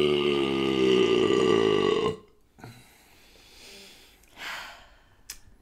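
A long, loud, deep burp rumbles for about two seconds, followed by quiet breaths and faint vocal sounds.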